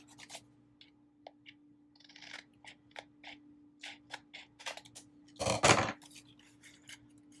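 Scissors snip through paper for a Happy Planner spread with a series of short, crisp cuts and rustles, close and quiet, ending in one louder burst of paper handling.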